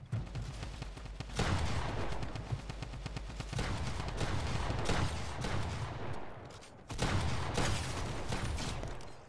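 Gunfire in Fortnite Mobile, with a shotgun among the weapons: bursts of rapid repeated shots in several loud volleys separated by brief gaps, close and sharp, with little talk over them.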